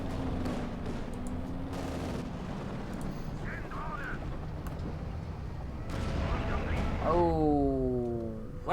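A Sturmtiger fires rockets in the World War II strategy game Company of Heroes 2, its launches rumbling as broad, heavy bursts within continuous battle noise. A voice talks over the final seconds.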